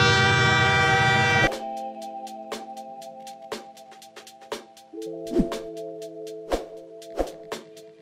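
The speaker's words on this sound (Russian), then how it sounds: "часть пути все же осуществим на поезде" A loud train horn blares for over a second, then rail cars of a Ukrainian train between Kharkiv and Lviv clack rhythmically over track joints with a steady rumbling hum.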